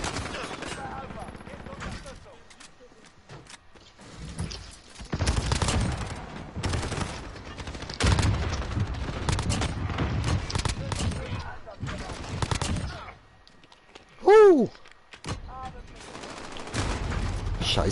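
Gunfire in Call of Duty: Modern Warfare on the Shipment map comes in rapid, repeated bursts of shots over several seconds, with brief gaps and a sharp whooshing effect near the end.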